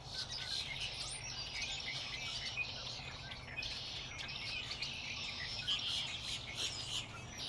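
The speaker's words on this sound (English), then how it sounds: "Lots of bird noise." Birds chirp and twitter in a tree outside, a faint, continuous chorus of calls from some distance with insect-like buzzing underneath and no voices.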